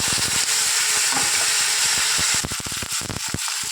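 Shrimp fry in hot oil with a steady, loud, close sizzle that turns into choppier crackling and stirring toward the end, with no voices.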